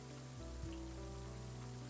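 Soft rain patters steadily over a burnt, destroyed city, a faint continuous hiss with low tonal hum beneath it and no voices.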